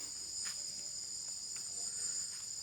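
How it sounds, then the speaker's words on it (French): Crickets in rural Thailand keep up a steady high-pitched trill, fairly faint and unbroken, with a few louder chirps rising over it. No voices are heard. "Les grillons, là, on entend."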